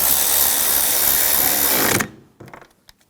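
On a 2007-2013 BMW X5 3.0L inline-six, a power tool whirs continuously while tightening bolts on the high-pressure fuel pump, then stops abruptly, followed by a few soft clicks and light handling sounds.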